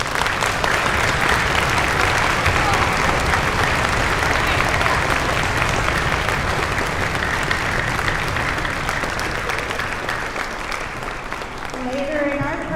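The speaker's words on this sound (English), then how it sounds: "please stand so that we can take a moment to show you our appreciation with a round of applause." A school audience at a middle school Veterans Day celebration applauds for veterans, with loud, sustained clapping for over twelve seconds that thins slightly near the end as a voice begins.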